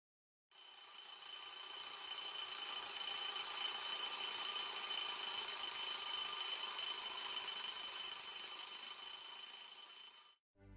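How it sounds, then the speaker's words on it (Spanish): An alarm clock rings with a steady, bright metallic bell tone for about ten seconds, loud and close, then stops abruptly. "Es la primera vez que el despertador logra hacer que abra los ojos."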